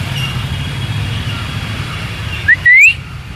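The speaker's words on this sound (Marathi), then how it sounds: "शिट्टीशिवाय ओळख पटत नाही." A person whistles to call a dog: one short, rising whistle that sweeps upward, close and sharp, over a steady low outdoor background hum.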